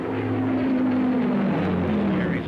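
Heinkel 111K bomber engines drone steadily and close, a continuous propeller hum with a buzzing, slightly wavering pitch that runs unbroken throughout.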